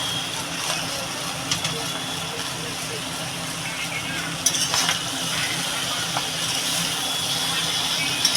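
Cut vegetables go into onion and garlic frying in a pan for a dried-shrimp shukto and are stirred: a loud, continuous sizzle with scattered scraping and clinking strokes close by.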